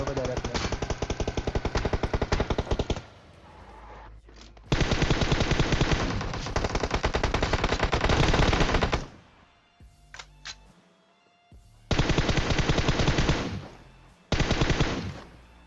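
Rapid automatic gunfire from the PUBG battle royale game, loud dense bursts of shots in several long volleys separated by short quieter gaps with a few isolated single shots.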